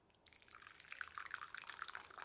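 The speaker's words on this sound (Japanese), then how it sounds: "お湯を入れます" Hot water poured into a tea bowl to prepare matcha, a steady splashing trickle that grows fuller and slightly louder as the bowl fills. Quiet and close, with no voices.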